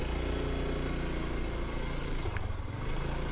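An old, battered scooter engine runs steadily on a rough, unpaved road in Nepal, a close, continuous low drone with no voices.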